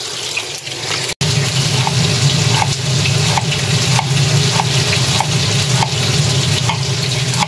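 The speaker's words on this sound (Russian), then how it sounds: "Мясо только первая сторона" Meat fries on its first side in a hot pan, giving a steady loud sizzle with a faint regular scraping or tapping every half second. There is no talk.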